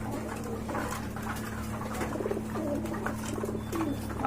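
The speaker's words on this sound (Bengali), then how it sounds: "এই যে দেখেন বিগ সাইজের কবুতর" Pigeons coo softly and repeatedly, low throaty calls over a steady electrical hum.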